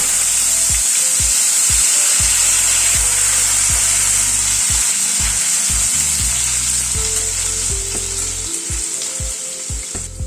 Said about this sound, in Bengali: নুন আর হলুদ দিয়ে আলুটাকে ভেজে নিচ্ছি